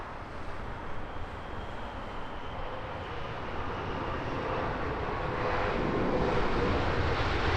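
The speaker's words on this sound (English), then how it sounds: "We're looking at a British Airways -10 stretch Dreamliner." A British Airways 787-10 stretch Dreamliner arrives at Heathrow. Its engines make a broad, steady roar that grows gradually louder over several seconds, with no talking.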